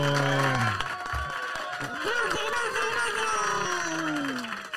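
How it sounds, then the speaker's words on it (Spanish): A studio audience at a Spanish-language comedy show reacts with cheering, whoops and scattered applause, a lively crowd roar that rises and falls, with voices mixed into the noise. "Un aplauso para Chachito."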